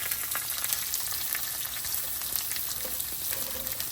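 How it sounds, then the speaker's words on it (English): Onions fry in a pan with a soft, continuous crackling sizzle and scattered pops, moderately quiet and close, with no talking. "And we'll cook the onions"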